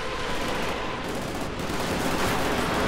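Dense, continuous automatic fire from an MG42 machine gun in the video game Company of Heroes 2, a loud, steady battlefield clatter that runs through the clip without pause and with no voices.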